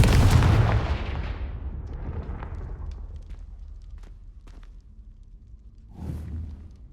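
A booming explosion from the Confringo spell in a Hogwarts video game, loud and close at the start, then rumbling and fading over several seconds before a second, smaller burst.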